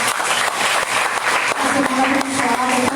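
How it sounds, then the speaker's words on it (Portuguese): Church congregation applauding together, a dense, steady wash of clapping that stays loud and even throughout, with voices mixed in beneath. "Dou uma salva de palmas ao Senhor."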